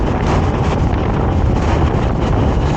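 Loud, steady wind buffeting a microphone during an expressway ride, a continuous roaring rush with no pauses.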